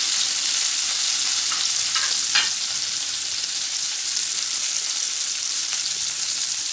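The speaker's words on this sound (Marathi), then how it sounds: "तर आता तेल तापलेलं आहे आपल्याला त्यामध्ये जिरं घालायचे आणि आता आपण कारलं घालायचं त्यामध्ये" Bitter gourd and cumin frying in hot oil, a loud, steady hiss that holds without a break, with a few faint clicks early on.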